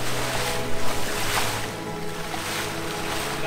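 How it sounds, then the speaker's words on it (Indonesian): A small boat with a single outboard motor travels across the sea, its steady engine drone running under rushing water and wind noise throughout, fairly close and loud. "Bermodalkan perahu kecil dengan satu motor, inilah transportasi yang digunakan warga"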